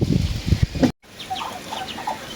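Soft duck quacks and small peeping calls from young birds scattered across the clip, following a brief burst of louder noise and a short silence.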